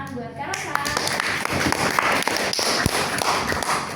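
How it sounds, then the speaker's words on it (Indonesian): An audience at a school talk show claps in a dense, steady patter, close by and fairly loud. Voices murmur underneath the clapping the whole time. "kita kasih tepuk tangan buat Kak Rosa."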